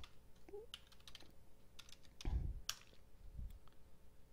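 Keys on a computer keyboard tapped while entering a password, with a run of quiet, irregular clicks and a couple of heavier thumps, close by and alone.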